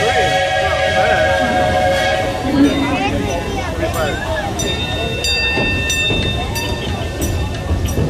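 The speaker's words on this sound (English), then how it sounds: "Today we're in a train." A kids' train ride at Cedar Point amusement park, with a steady rumble of the moving train, a tonal horn or whistle at the start and faint clanks and ticks throughout, while people talk over it.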